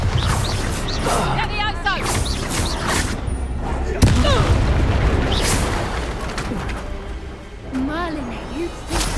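Bombarda and Confringo spells burst in Hogwarts Legacy combat, booming blasts and crackling impacts under a character's shouted incantations throughout.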